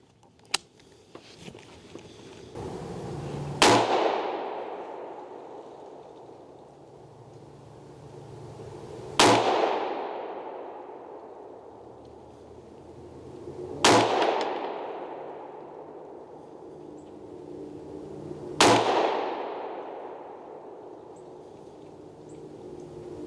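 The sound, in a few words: gunshots firing Phantom Defense Spicy Boi 300 Blackout rounds at target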